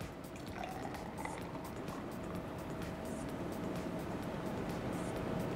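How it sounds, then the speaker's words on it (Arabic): Pineapple yogurt juice poured straight from a blender jug into a glass, a steady continuous liquid pour over a constant low background hum. "ممكن اصب على طول من البلندر على الكاس بتاعي كده."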